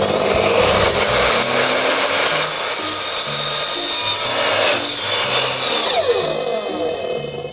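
An Evolution SMS255+ mitre saw slices through PVC pipe, a loud continuous high-pitched whine and rasp of the blade biting plastic that runs steadily for about six seconds, then trails off as the cut finishes and the motor winds down.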